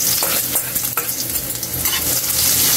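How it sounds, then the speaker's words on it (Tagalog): Ginger sautés loudly in hot oil for pork dinuguan, a dense close-up sizzle with crackles and spoon scrapes throughout, no voices. "Ngayon, igigisa na natin ng ating mga sangkap"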